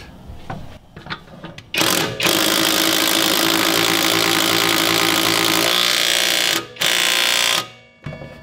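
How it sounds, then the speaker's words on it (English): A right angle impact wrench runs bolts on a car's coilover suspension, giving a loud continuous buzzing hammer for several seconds, then short bursts separated by brief pauses. "check out the new hotness, right angle impact."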